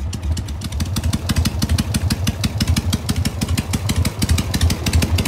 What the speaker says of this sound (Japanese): 先日ハーレースポーツスターを購入したので3拍子カスタムをしました。